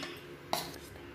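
Cauliflower florets being mixed into pakora batter in a bowl, giving a single short clink of the bowl amid faint stirring, quiet and close.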